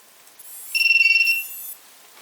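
A J-Mini drone beeps as its battery is connected: a quick train of about a dozen high electronic pips, then a short sustained tone, close and clear against near silence.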